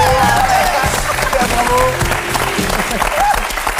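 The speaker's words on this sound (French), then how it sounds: "je pense que tout le monde peut applaudir" Studio audience applause on a French TV talk show in 1999: a dense, steady wash of clapping that fills the whole stretch, with faint tonal music and a voice threaded underneath.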